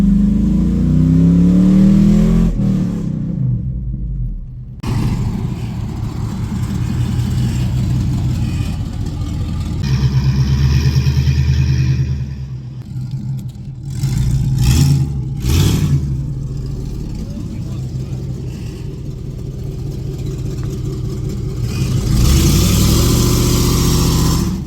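A 2005 GMC Sierra pickup truck drives around a neighborhood, its engine droning loud and steady with rises in revs and a few rattling, clunking bumps along the way.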